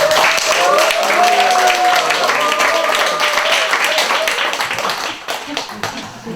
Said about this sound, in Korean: 같이 한번 박수로 맞이하겠습니다